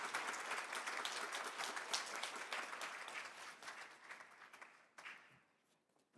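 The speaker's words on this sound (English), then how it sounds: "why don't you give a big round of applause to her?" An audience at a formal international conference in Seoul applauds with dense, steady clapping that fades over several seconds and ends with a few scattered claps.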